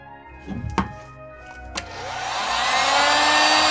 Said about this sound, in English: use a heat gun like this to heat it up